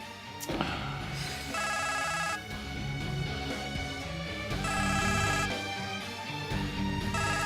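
A mobile phone rings with a repeating melodic ringtone in loud bursts that recur through the clip, over a steady background with a thump near the start.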